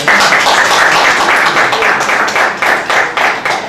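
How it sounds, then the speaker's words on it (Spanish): Applause from an audience at a regional policy forum in Peru, honoring an engineer after her presentation; dense, steady clapping fills the whole stretch and thins slightly toward the end. "Aplauso para la ingeniera."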